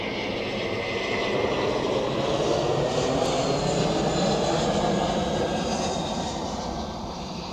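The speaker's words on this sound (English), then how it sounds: "that's not an A321neo, that's a normal A321. Touchdown, spoilers up" Airbus A321 airliner touching down at Zurich Airport, a steady loud roar of engines and rushing air that holds for several seconds and eases slightly at the end, heard alone from a spotting position.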